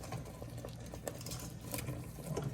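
Candied yams in syrup simmer softly in a pan as pieces are turned, giving faint wet bubbling and small scraping clicks throughout, with no voices.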